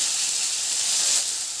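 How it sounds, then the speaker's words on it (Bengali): Potatoes frying in hot oil, a constant close sizzling hiss that briefly swells, with no voices. "আলুগুলো একটু ভাজা করে নেব।"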